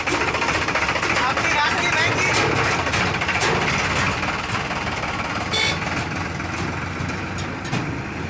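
A farm tractor engine runs steadily and loud as it drives out of the godown toward the field, a continuous rumbling drone with a rattling texture throughout.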